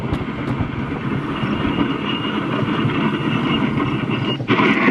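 A mountain coaster sled at Lake Placid, New York runs down its rail into the finish curve, a loud continuous rumbling roll with rattling wheels, close up and without speech.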